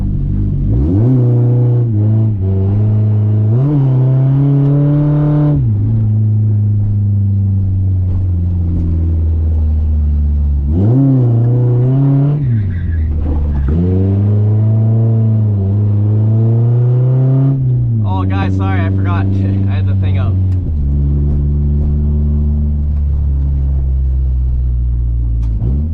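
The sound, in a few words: car engine revving while drifting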